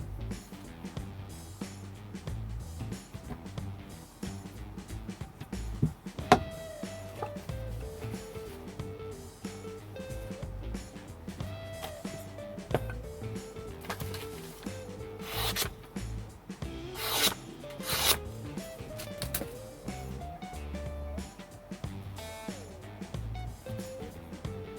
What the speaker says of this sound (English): basically buffing the spine up a little.